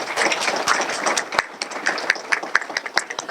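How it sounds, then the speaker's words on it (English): Warm audience applause at a county government service awards event, steady dense clapping throughout, fairly close, with individual sharp claps standing out toward the end. "let's give her a real warm round of applause"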